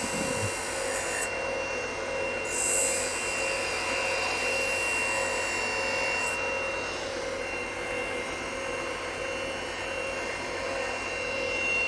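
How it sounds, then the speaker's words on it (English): A wooden snowman ornament spins on a lathe while sandpaper is pressed against it, giving a steady, close rasping hiss over the continuous whine and hum of the motor, unbroken throughout. "We're going to hit it with some sandpaper."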